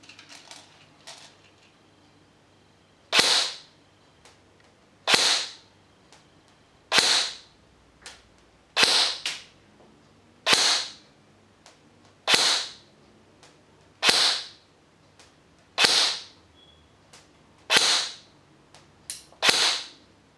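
AY M4 Baby Monster CQB airsoft rifle firing 0.20 BBs through a chronograph in single shots, about ten sharp snapping cracks at roughly two-second intervals in a quiet room.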